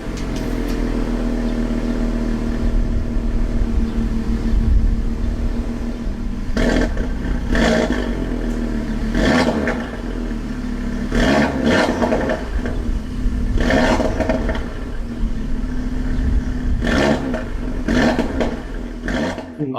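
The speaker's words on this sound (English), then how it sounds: "one of my favorite sounding engines is probably the 5-cylinder that you could find in the RS3." Audi RS3 turbocharged five-cylinder engine revving, a loud, sustained throaty drone with repeated sharp rises in pitch and intensity as the throttle is blipped.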